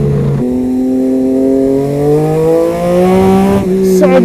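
A Triumph Moto2 prototype motorcycle engine, on cold tyres, revs loud and close with a rising, buzzing pitch held for a few seconds, then drops and climbs again.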